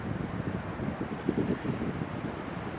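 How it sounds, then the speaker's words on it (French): Steady wind buffets the microphone beside a lake, with choppy waves breaking and sloshing underneath in an even, continuous rush, no voices. "On peut pas dire que le vent se calme, au contraire."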